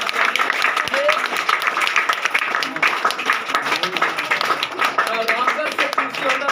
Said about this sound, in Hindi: जोरदार ताली और जोरदार ताली से इनवाइट करना चाहेंगे।